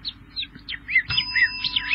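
A person imitates bird chirping with the mouth alone during a live TV talent segment: a quick run of bright, sweeping whistled chirps and trills, close and clear, with faint background noise underneath.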